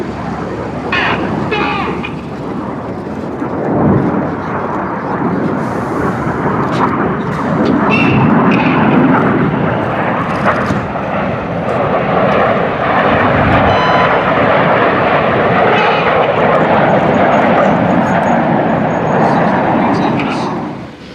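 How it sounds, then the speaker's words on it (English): Red Arrows jet aircraft flying rollback manoeuvres at an air show, a loud sustained roar of jet engines that swells after a few seconds and holds steady, with faint background voices from the crowd. "The inside pilots pitch up to the outside as they fly the rollbacks."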